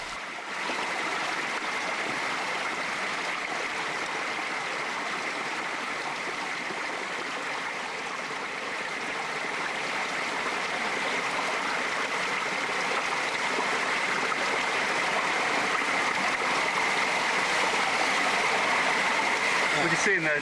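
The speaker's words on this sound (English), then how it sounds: "it didn't look very inspiring, but it was chucking out quite a lot of water" A large flow of water gushing from a hole in a cave, a continuous loud rushing roar with a voice speaking over it.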